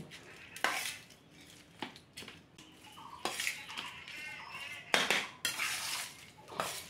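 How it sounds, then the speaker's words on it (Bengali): Boiled raw papaya mixed by hand with sago in a bowl for a sweet dish, heard as close, irregular clinks and scrapes against the dish with soft wet squishing between. "পেঁপে সিদ্ধ যতটা নিতে পারবে সেই অনুযায়ী মেখে দিয়ে দেবো"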